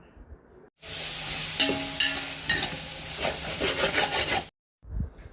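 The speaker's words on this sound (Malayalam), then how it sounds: "നമ്മൾ ചതച്ച് വെച്ച ഗ്രീൻ ചില്ലി, ജിഞ്ചർ, ഗാർലിക് പേസ്റ്റും കൂടിയിട്ട് നല്ലതുപോലെ ഒന്ന് വഴച്ചെടുക്കാം" Green chili, ginger and garlic paste sautéing in a pan for a mushroom biryani, a loud, close sizzle with rough scraping strokes of a spoon running for several seconds, then cutting off abruptly.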